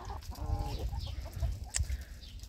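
Backyard chickens make soft, contented clucks and low murmuring calls, a steady close chatter of several birds with no talking.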